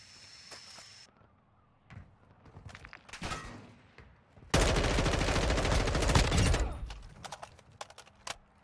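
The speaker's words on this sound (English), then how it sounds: "Pretty sure I heard shots." Gunfire in the Call of Duty DMZ video game: scattered single shots early on, then a loud, sustained burst of automatic fire lasting about two seconds, followed by a few sparse distant shots.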